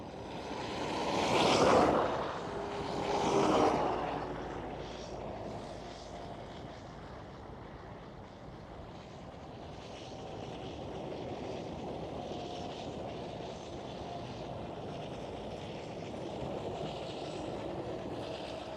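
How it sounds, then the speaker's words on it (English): KLM Cityhopper Embraer E195-E2 jet airliner at Amsterdam Schiphol, a couple of loud whooshing swells early on, then a sustained steady jet roar fading into the distance, no voices. "There goes the KLM City Hopper E195 E2."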